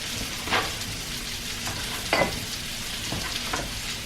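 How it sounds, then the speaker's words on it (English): Onions fry in a spicy shrimp sauce with a constant close sizzle, punctuated by several short stirring scrapes spaced about a second apart. "We're gonna go ahead and throw those onions in there."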